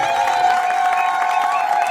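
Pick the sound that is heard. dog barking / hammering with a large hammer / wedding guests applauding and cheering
wedding guests applauding and cheering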